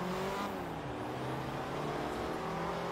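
Race cars in Forza Motorsport 3 roar continuously up close, engines droning with shifting revving pitch over three seconds, with no talk.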